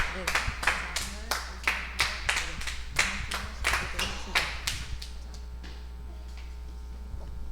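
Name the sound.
children clapping together in church service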